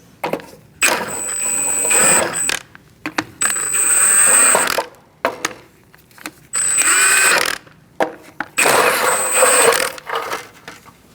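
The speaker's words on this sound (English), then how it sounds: "Using a 19mm socket, we're going to remove our hubcap gently." A 19mm socket on a ratchet loosens the hubcap fasteners underneath a 2006-2011 Chevrolet HHR, close metallic ratcheting and clicking in four separate bursts with pauses between them.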